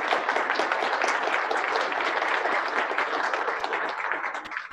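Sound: round of applause

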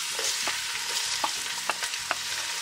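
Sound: onions frying in hot oil

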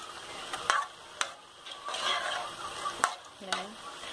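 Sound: stroganoff with cream simmering and being stirred in a pan

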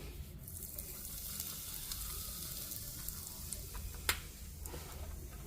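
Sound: asafoetida sizzling in hot oil for mango pickle

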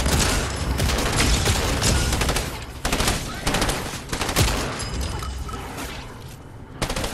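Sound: gunfire from The Walking Dead video game

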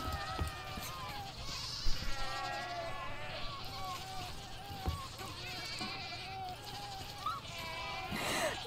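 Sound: goats bleating in a video game

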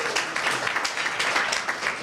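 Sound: luncheon audience applauding themselves

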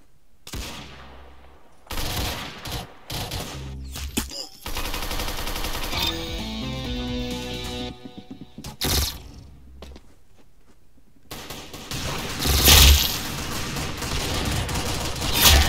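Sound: gunfire in a shooter video game

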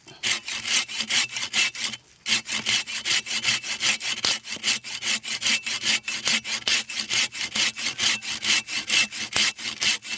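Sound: curved pruning saw cutting wood

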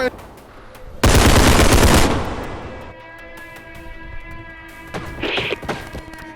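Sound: gunfire in the video game Bodycam

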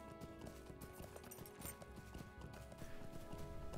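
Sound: horse hooves clip-clopping while riding in Lord of the Rings Online video game

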